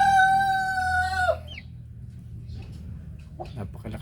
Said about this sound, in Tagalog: At dito po yung ating 2 sisiw na yan po.